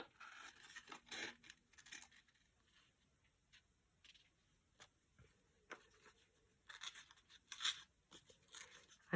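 Scissors snip paper while fussy cutting pieces for a junk journal, quiet irregular clips and rustles close by, with a few louder crisp bursts and pauses between.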